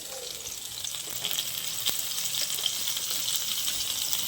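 Pieces of pointed gourd (potol) frying in hot oil in a pan, a steady close sizzle with a few scraping stirs, no talking.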